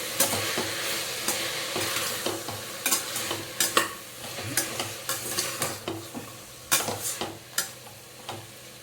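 Mint paste fries in a hot pan for mint pulao, a steady crackling sizzle under repeated scraping strokes of a spoon stirring it, with occasional sharper metallic clinks against the pan, close and continuous.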